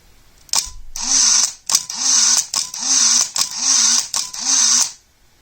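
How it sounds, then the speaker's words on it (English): A Nikon AW-1 autowinder fitted to a camera runs through five quick mechanical whirring cycles in a row, each a short buzzing motor burst with brief gaps, close and loud. "we're back with the Nikon AW-1 with the winder attached."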